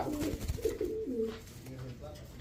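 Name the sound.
pigeon cooing at a pigeon market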